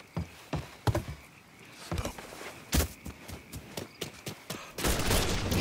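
Rapid bursts of video game gunfire crack out in quick succession, some shots sharp and close, others clustered into volleys, with brief quieter gaps and a dense rattle near the end.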